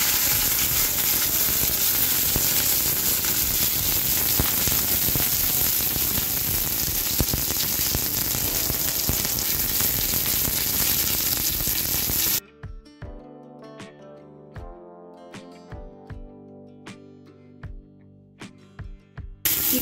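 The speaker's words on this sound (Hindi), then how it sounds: "अब हमें करने हैं यहाँ पर थोड़े से ये शिमला मिर्च बची है इन्हें फ्राई" Bell peppers frying in a pan give a loud, steady hiss of sizzling for about twelve seconds, then the sound cuts to quieter music.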